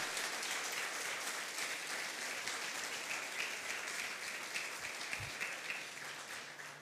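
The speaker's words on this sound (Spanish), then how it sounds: "Dale fuerte ese aplauso al Rey" Church congregation applauding together, a steady wash of clapping from many hands filling a large room, sustained at even loudness throughout with no break.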